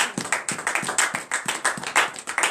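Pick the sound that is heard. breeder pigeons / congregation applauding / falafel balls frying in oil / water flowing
congregation applauding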